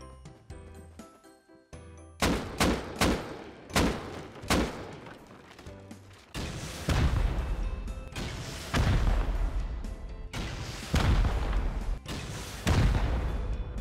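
Gunfire in the survival game Rust shoots out thatch. There are sharp isolated shots at first, then dense, heavy bursts of rapid fire, loud and close, with no talking.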